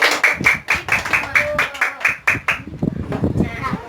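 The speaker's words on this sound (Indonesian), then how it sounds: "Oke, beri tepuk tangan." Bursts of rhythmic hand clapping from a group of children in a classroom, fairly close, mixed with voices and a brief stretch of chatter at the end.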